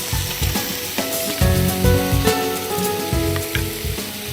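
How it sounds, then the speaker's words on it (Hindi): Whisked yogurt poured into a hot pan with water sizzles loudly and steadily up close, a crackling frying hiss with light stirring for a dish of cashew and potato in yogurt. "इसी के साथ आप डालें इसमें दही"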